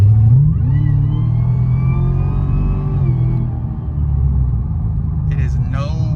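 Cadillac CTS-V accelerating in a milder, eco-like drive mode: a deep steady engine rumble that climbs in pitch at the start, then holds a smooth drone, heard up close.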